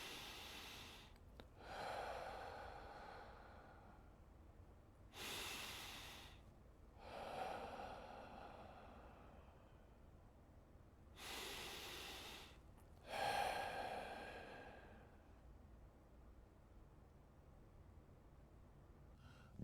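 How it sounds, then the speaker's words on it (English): A person breathing slowly and deliberately while seated still with eyes closed to calm anxiety, with long audible inhales and exhales in a steady repeating rhythm, several breath cycles close to the ear with quiet pauses between. "I paced my breathing by doing like this."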